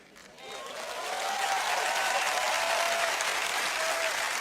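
Audience applause at a speech or public address, a dense wash of clapping that swells from quiet to a steady sustained roar and holds for several seconds.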